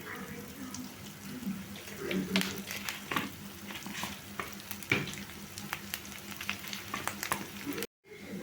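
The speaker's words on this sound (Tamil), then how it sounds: "எண்ணெயிலே வதக்கணும்" Ingredients sauté in oil in a pan for coconut rice, a steady close sizzle broken by frequent clicks of stirring and scraping. A brief sharp dropout near the end interrupts it, with no speech.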